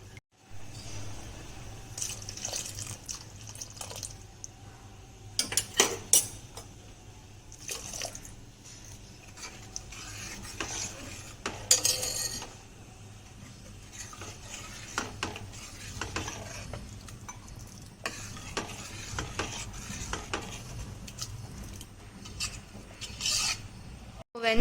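A spoon stirs pea (pattani) gravy in a pan for roadside-style masala sundal, making repeated close scraping and rasping strokes against the pan over a low steady background, with no talking.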